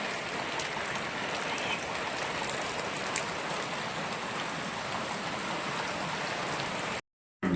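Steady, heavy rain pours down without a break, a dense hiss of drops on surfaces, cutting out briefly near the end.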